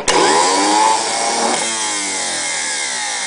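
A loud, continuous mechanical whirring and buzzing from a boat engine's starter motor cranking up close, steady for several seconds.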